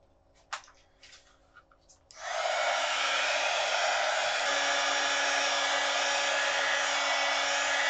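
A hair dryer switches on after some faint handling noises and then blows steadily and loudly for several seconds, drying a freshly glued junk journal art page.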